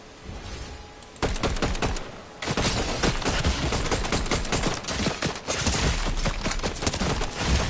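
Dense Fortnite gunfire from a video game, with rapid overlapping bursts and shots that run almost continuously after a brief quieter opening, loud and close with no talking over it.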